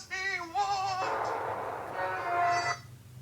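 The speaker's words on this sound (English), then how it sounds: "My dad's ringtone, right here." A phone ringtone plays a short electronic melody of rising and falling tones, fairly faint, in two phrases that break off after about three seconds.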